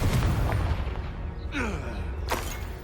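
Confringo spell blast in Hogwarts Legacy, a dull booming burst with a rushing whoosh and a second crackling hit, over a steady low rumble of game ambience.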